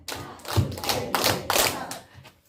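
A small rural audience at a Korean countryside singing-volunteer event claps in time on cue, a handful of distinct loud claps in a short rhythmic burst, close and clear.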